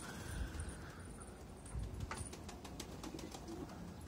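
Young pigeons cooing softly in a village coop, low murmuring calls repeating through the clip with occasional rustling and faint background bird sounds.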